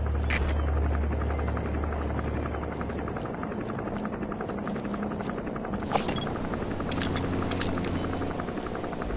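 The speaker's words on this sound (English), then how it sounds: "Looks like the arms dealer's chopper is gonna patrol for the security forces." An arms dealer's chopper patrols in Metal Gear Solid, its rotor throbbing in a steady rapid chop with a constant engine hum, loud and sustained without a break.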